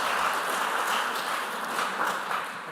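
Audience applause for contestants at a junior high school semi-final quiz competition, a steady dense wash of clapping holding for the whole stretch, moderately loud with no voices over it.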